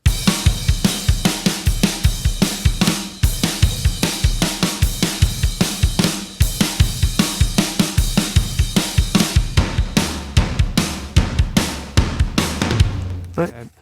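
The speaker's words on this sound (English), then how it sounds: "Kit on its own now sounds like this" A full drum kit plays a steady groove on its own, with punchy kicks, snare hits and constant cymbal wash, loud and close.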